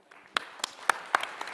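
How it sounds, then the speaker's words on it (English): A few scattered, separate claps from a small audience at an anniversary event of a science programme, thanking the speakers and moderator; sparse and near, with no talk. "A big round of applause for distinguished speakers and our moderator."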